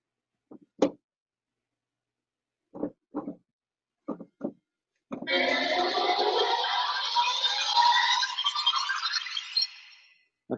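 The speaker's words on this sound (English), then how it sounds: "that was some crazy string glisses" Scary string glissandos played through a speaker: a few short scraping bursts give way to a dense, sustained, swelling string texture that slides and shimmers for several seconds before fading out.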